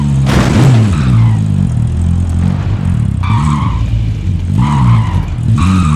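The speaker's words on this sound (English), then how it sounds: "I'm driving, on Eva." A car driven in Call of Duty Warzone, with a loud, steady engine roar that rises and falls as it revs, and tire skids and squeals over the top, all continuous and close.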